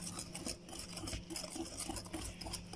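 A spoon or spatula steadily stirs and scrapes white chocolate fudge brownie batter in a bowl, giving soft rhythmic rasping strokes close up with no talking.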